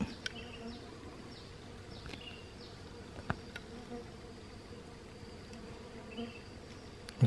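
Stingless kelulut bees swarm around a colony being moved from a banner into yellow bamboo, making a faint, steady buzzing hum with occasional louder passes of individual insects nearby.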